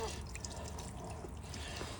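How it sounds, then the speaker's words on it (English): Water overflowing from a chicken waterer with its cap pulled off, a faint continuous trickle and splash running steadily for a couple of seconds. "So if I pull this cap off, it just starts overfilling."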